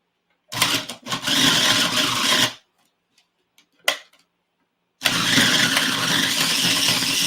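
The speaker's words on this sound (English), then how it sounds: "So I'm going to grind that up first." A food processor grinding dates, two loud whirring bursts of motor and chopping noise separated by a silent pause with a brief clunk, the second run starting abruptly and continuing steadily.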